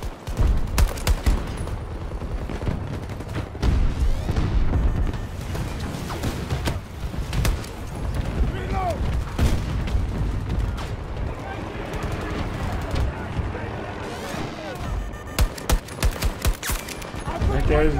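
Rapid gunfire in the video game Battlefield 2042, dense bursts of automatic shots and booming blasts crackling across the whole stretch, with a player talking over the battle.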